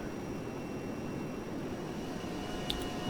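Twin jet engines of an A-10C attack aircraft in the Arma 3 video game give a steady, even broadband roar with no clear change in level and no voices over it.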